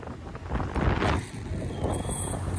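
Wind gusting hard across the microphone outdoors, a rough steady rumble that swells around the first second and again later, with no talking.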